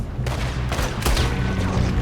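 Gunfire rings out in Red Dead Redemption 2 during a train robbery shootout, a rapid burst of loud, booming shots with echoing tails.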